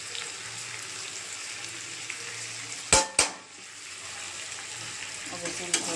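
Garlic, ginger and chili fry with onions in hot oil, giving a steady broadband sizzle. Two sharp clatters of a utensil against the pan come near the middle, and there is no talk over it.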